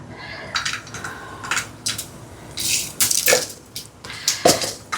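Mustard seeds crackle and pop in hot oil while tempering, giving a string of sharp sizzling spits and bursts that come close and clear, with no voice over them.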